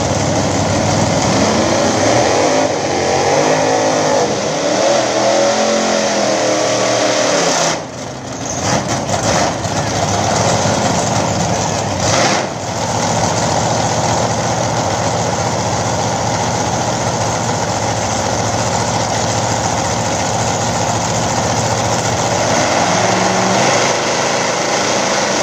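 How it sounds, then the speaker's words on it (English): Drag race cars, a nitrous-fed Chevrolet Vega against an S10 pickup, roaring loud and close at a small-tire dig racing event, one sustained high-revving engine wail with a brief dip and gear change partway through. "Looks like a Nitrous Vega taking on Daniel Bishop in the S10."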